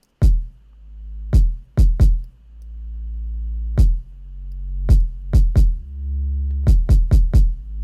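A deep bass tone in Logic Pro X swells back in after each sharp kick-like hit, ducking hard and pumping from extreme sidechain compression in an irregular rhythmic pattern.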